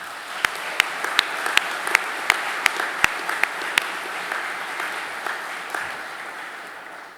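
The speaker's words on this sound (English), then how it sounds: "So I'd like to get a round of applause to my staff for making this happen." Audience applause fills a naval nuclear power training graduation ceremony, with a steady wash of many hands clapping and sharper individual claps standing out through the first few seconds before the ovation gradually thins.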